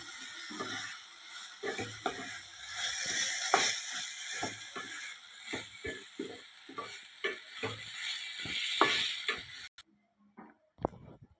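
Garlic and grated coconut roast with garam masala and coriander-cumin powder in a pan. A spoon scrapes and stirs in repeated close strokes over a faint sizzle, then falls quiet with a few last scrapes.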